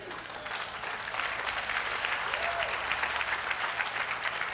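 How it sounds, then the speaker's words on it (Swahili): Crowd applause at a funeral gathering in Kenya, a dense, steady wash of clapping from many people that holds throughout without pause. "lakini Soania umepiga makofi lakini fikiria"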